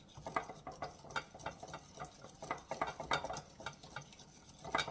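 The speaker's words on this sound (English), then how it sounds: "so I'm giving it a stir" A spoon stirs a salad dressing with sugar settled at the bottom, quiet rhythmic clinks and swishes against the container repeating close by, with no talking.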